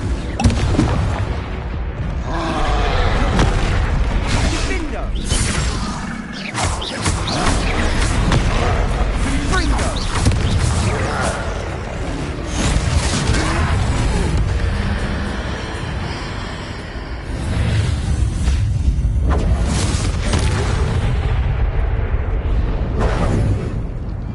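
Confringo fire spell blasts in the Hogwarts Legacy video game during a troll fight, heavy booming explosions one after another over a loud, continuous din of battle effects.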